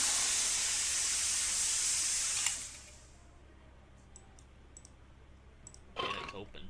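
A pressure cooker is opened in a cooking video game, releasing a loud rushing hiss of steam that cuts off after a couple of seconds, followed by quiet soft clicks and a brief burst of clatter.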